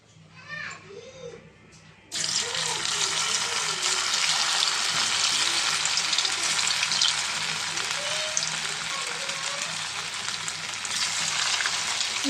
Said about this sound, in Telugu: ఆయిల్ వేడైంది బంగాళదు ముక్కలు వేసేసుకుందామండి మనం